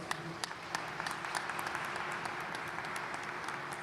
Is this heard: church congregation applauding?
yes